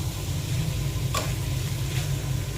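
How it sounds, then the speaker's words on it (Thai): Wild boar stir-fried with cardamom shoots in a pan, a steady close sizzle with low scraping and rumbling underneath and one sharp utensil click partway through. "ผัดให้หอมเลยค่ะ"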